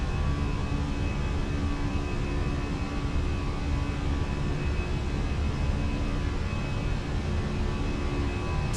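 Simulated Fenix A320 airliner engines in Microsoft Flight Simulator roar steadily as the jet gathers speed, a constant broadband jet rumble with a faint whine on top, unbroken and without talk.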